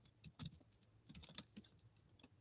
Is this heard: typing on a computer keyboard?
yes